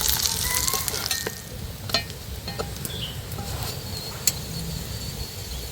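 A paratha flatbread roasting on a hot pan gives a steady, close sizzle with faint crackles and a few sharper pops and taps, continuous throughout.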